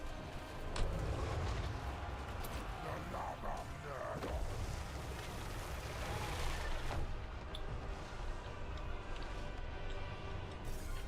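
Battle noise from Total War: Warhammer 3 mixes rapid gunfire with booming artillery in a dense, continuous barrage. Voices seem faintly mixed in.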